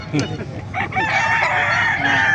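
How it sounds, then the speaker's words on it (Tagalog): Chickens packed in a van at a busy market cluck and crow loudly up close, with overlapping calls and a sustained rooster-like crow amid background chatter. "Puro manok o."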